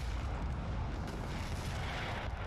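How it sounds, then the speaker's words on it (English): Artillery cannon fire in the Napoleon: Total War video game, a dense continuous rumble of booming blasts blending together, loud and steady throughout with no speech. "Artillery took down the horse army."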